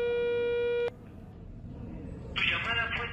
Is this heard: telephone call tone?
yes